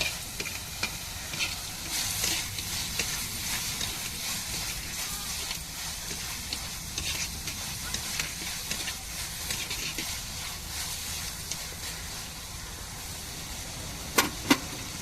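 Ginger garlic paste sautés in a pan for a macaroni dish, giving a continuous soft sizzle with scraping stir strokes and a couple of sharp clinks near the end.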